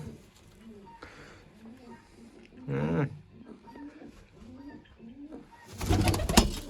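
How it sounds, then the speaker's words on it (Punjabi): Racing pigeons coo in low, rolling phrases, one after another, with a brief rustle midway and a loud burst of flapping noise near the end. "ਇਹ ਤਾਂ ਕਬੂਤਰ ਵੱਡਾ ਹੈ"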